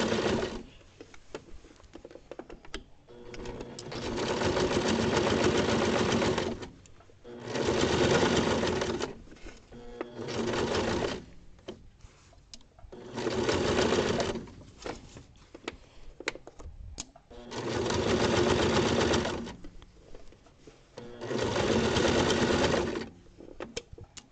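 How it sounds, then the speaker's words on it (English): A sewing machine stitches through many thick fabric layers in several steady bursts of fast whirring, pausing briefly between runs, close and fairly loud. "I stitch through way more layers than before"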